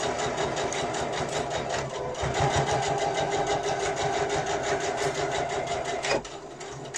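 A sewing machine stitching a fabric pouch runs in a fast, continuous mechanical hum with rapid needle ticking, close and steady, easing slightly near the end.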